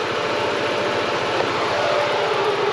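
A Honda Civic with a G23 VTEC engine swap idles with a steady, even hum and a faint whine, its speed easing slightly lower near the end, with no talking.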